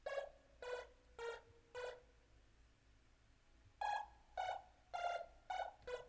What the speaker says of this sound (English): This one I have labeled Wacky Synth because it's pretty wacky.